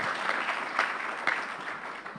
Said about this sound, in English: A big round of applause for Manu.